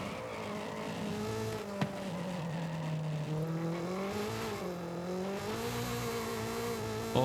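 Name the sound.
Honda Prelude engine racing in video game Forza Horizon 5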